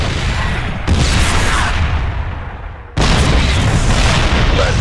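Siege tanks in StarCraft II shell Protoss cannons: two heavy, loud booms land about two seconds apart, each followed by a rumbling tail of sound.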